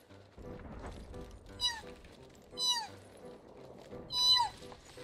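A voice imitating a cat, with three separate drawn-out meows rising and falling in pitch over quiet game music in the background.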